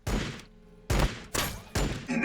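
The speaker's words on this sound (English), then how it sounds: "Airstrike on us." An airstrike in Warhammer 40,000: Battlesector lands as four loud, heavy blasts in quick succession, each with a booming rumble that decays before the next hit.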